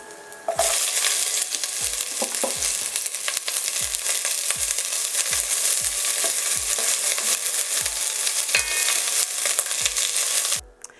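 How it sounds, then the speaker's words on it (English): Onions frying in heated olive oil for butternut squash soup: a loud, steady close sizzle starts abruptly, with regular knocks of a utensil stirring throughout, then cuts off at the end. "Now that the oil has heated up, we're gonna add the onions."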